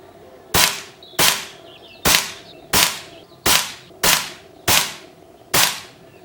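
Eight sharp, evenly spaced shots from an Air Venturi Nova Vista air rifle firing H&N Barracuda 15-grain pellets, each a loud crack with a short decaying tail, about one shot every 0.7 seconds, with no talking.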